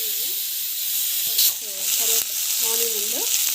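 Onion sautéing in a pan for a home-cooked meal, giving a steady close hiss and sizzle throughout, with a person's voice speaking intermittently over it.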